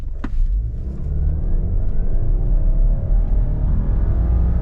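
A Subaru Ascent Onyx SUV launches from idle in a full-throttle 0 to 60 run, its engine droning loud and steady with rising revs and heavy low rumble throughout.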